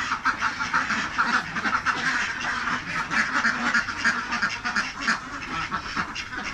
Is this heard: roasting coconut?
no